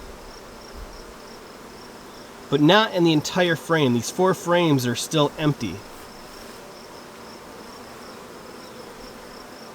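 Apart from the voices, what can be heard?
bees in a beehive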